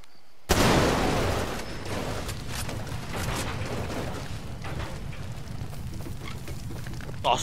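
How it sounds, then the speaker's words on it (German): In the Far Cry 2 video game, a sudden loud blast bursts in after near silence, then trails into a long crackling, rumbling roar of fire and debris that slowly fades. "Nenn ich mal eine Explosion, Alter."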